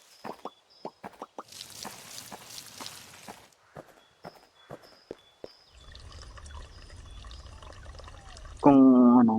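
Water pours in the horror video game Pumpkin Panic during a refill, a steady liquid stream following a run of light footsteps and small plops, then ending as a louder sound cuts in.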